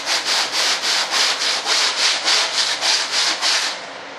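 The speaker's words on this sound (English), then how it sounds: "give this a quick sanding." A sanding block rubs back and forth over a model aircraft part, about a dozen even, rhythmic scraping strokes close up, steady and loud with no voices.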